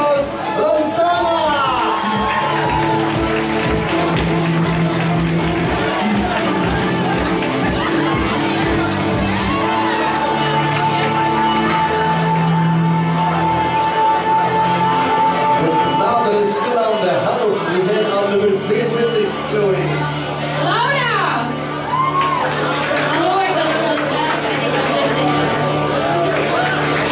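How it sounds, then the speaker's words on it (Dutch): A crowd at a sash ceremony cheers and shouts loudly and continuously, with children's voices whooping amid the din and music underneath throughout. "Geef hem een applaus, Lozana!"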